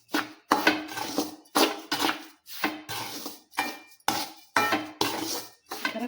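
A spoon scrapes and clinks around a pan while semolina and grated coconut are fried and stirred for rava laddu, in a steady rhythm of close, loud strokes.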